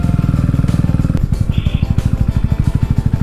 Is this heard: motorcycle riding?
yes